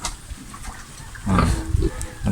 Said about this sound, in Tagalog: Unay siyang baboy.